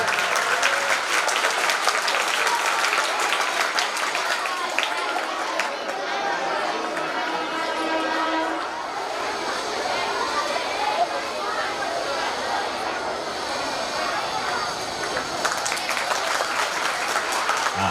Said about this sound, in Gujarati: તાળીઓ ચાલુ રાખજો.